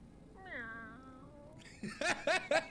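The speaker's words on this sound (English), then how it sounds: "That meow was hilarious." A cat in the video game Divinity Original Sin gives a drawn-out wavering meow, followed by a few quick bursts of laughter close by.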